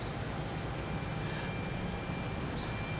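A JetBlue airliner taxiing in at Boston's Logan Airport, a steady loud engine rumble and broad roar that hold evenly throughout, with no talking.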